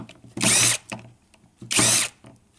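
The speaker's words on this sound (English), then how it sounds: "one drill bit first, and then we'll switch over to another drill bit to do the smaller sizes" A power drill unscrews fasteners from a hard drive during a teardown, two loud whirring bursts of under half a second each, separated by quiet handling clicks.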